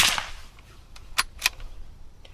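A semi-automatic .22 rifle fires CCI Quiet ammunition: a few sharp, cap-gun-like cracks, one at the start and two close together near the middle, each short and fairly crisp against a quiet background.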